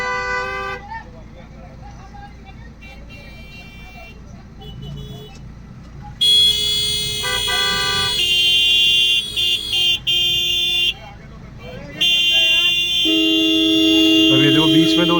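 Car horns honk in a jammed street, with repeated toots and long blares of different pitches overlapping one another while people talk over the din.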